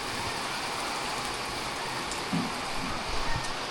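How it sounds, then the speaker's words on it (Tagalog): Steady rain falls during a mountain hike on Mt Fato, a dense continuous hiss of drops on surfaces with a few brief low thumps, no talking. "Guys, ayaw binto ng ulan."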